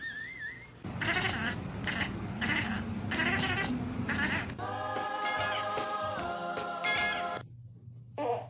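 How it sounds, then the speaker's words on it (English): A cat meows over and over in a series of drawn-out, wavering cries that are loud and close, followed by a longer strained yowl before the sound drops off. "Can all the kitties in the club say meow?"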